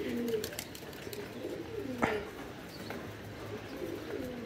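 Pigeons coo softly in a quiet space, low rolling calls repeating a few times at moderate distance, with faint background noise and a brief sharp knock midway.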